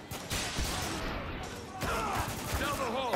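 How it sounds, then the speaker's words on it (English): Shotgun gunfire in the war shooter Spec Ops: The Line, a dense, noisy roar of blasts and crashing impacts that runs continuously, with a brief dip midway before the loud barrage resumes. "Ah, shotguns, dude. They hurt."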